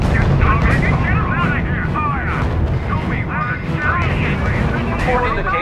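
Heavy artillery and gunfire from a R.U.S.E. strategy-game battle rumble continuously and loudly, in dense booms and crackle with aircraft-like whines, mixed under radio-style voices.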